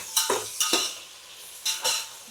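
A spoon stirs chopped coriander, curry leaves and mint into prawn masala, scraping against the pan in four distinct close strokes, each ending in a brief metallic clink over a faint sizzle.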